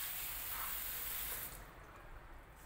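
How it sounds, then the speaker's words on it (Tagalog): Water pours into a cooking pot holding lemon for a vegetable dish, a soft hiss of flowing liquid lasting about a second and a half before fading to quiet. "lalagyan lang natin ng tubig"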